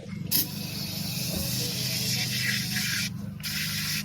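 Steady hissing spray of Super Clean foam degreaser onto a wheel runs almost continuously for about four seconds, with a brief break near the end, close and fairly loud.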